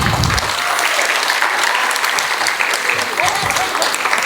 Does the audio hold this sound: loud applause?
yes